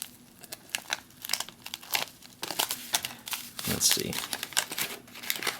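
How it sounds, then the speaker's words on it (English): An MRE pouch from a 2004 Meal, Cold Weather torn open at a new notch, close crinkling and ripping of stiff packaging in quick irregular bursts, with a brief spoken remark over it. "I'm going to tear this pouch a new notch."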